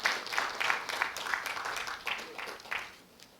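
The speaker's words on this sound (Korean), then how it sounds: "뜨거운 박수로 함께해 주시기 바라겠습니다" Applause at the founding general meeting of a Jeju chapter of a Korean digital-poetry society, during a commemorative photo, with a modest crowd's scattered claps that thin out and fade over a few seconds.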